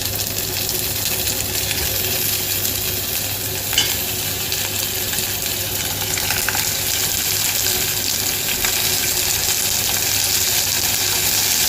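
Fresh abalone cooking in a butter and white wine sauce, a constant loud sizzle and bubbling simmer with faint stirring scrapes, steady throughout with no voices.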